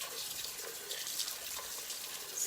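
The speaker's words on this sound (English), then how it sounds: "let's rinse this out" Tap water runs steadily into a kitchen sink while something is rinsed, a soft continuous hiss at low level with no voices.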